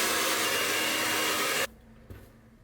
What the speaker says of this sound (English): And then I'm just gonna blow dry my hair too.